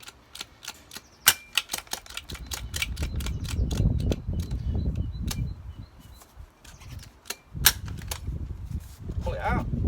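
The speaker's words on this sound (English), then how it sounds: "You screw that onto this and then just force it through the tyre with the gun." A handheld tyre plugger gun pushes a repair plug through a punctured car tyre, giving a rapid run of sharp, loud mechanical clicks and snaps close by, with a low rumbling noise underneath.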